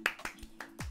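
A few quick hand claps in a Dead by Daylight session, close and light, roughly four sharp hits in under a second.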